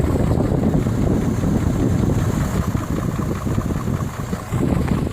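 An electric radiator cooling fan on a car blows hot air in a steady, loud whooshing rush that holds constant throughout, with no talking.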